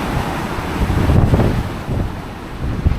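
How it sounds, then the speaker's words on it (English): Strong storm wind of Storm Eowyn gusting at around 84 miles an hour, buffeting the microphone with a dense roar that swells to a heavy gust midway and keeps surging, with no speech. "These wind bursts are absolutely bonkers."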